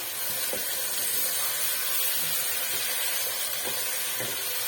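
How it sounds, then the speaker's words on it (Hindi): Marinated chicken fries on medium flame in a curry pan, a steady broadband sizzle and hiss with soft stirring knocks, continuous and close, no voices. "चिकन ऐड करने के बाद अब आप इसको 15 मिनट तक मीडियम फ्लेम पर अच्छी तरह से भून लें।"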